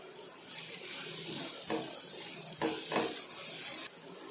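Four red chillies roasting with tomatoes in a pan for a peanut side dish, a continuous close hissing sizzle with a few brief swells of stirring.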